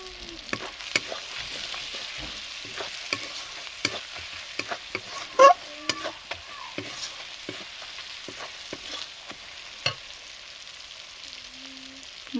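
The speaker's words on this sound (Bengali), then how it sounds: "মশলা আমার ভাজা হয়ে গেছে ভালোভাবে।" Spices with turmeric frying in a pan for a Bengali jackfruit curry, a close continuous sizzle with scattered spatula scrapes and clinks and one sharper knock midway, no voices.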